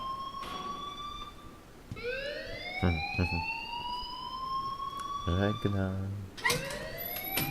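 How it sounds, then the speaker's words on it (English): An electronic alarm in the video game Life is Strange wails with rising, sweeping tones and repeated pulsing bursts, heard under game dialogue and a player's speech. "please turn off that alarm since that's your job"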